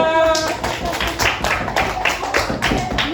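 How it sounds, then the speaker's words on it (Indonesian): A classroom of students clapping for a presenting group, irregular sharp claps at close range, with a voice briefly heard at the start. "tepuk tangan untuk kelompok 3"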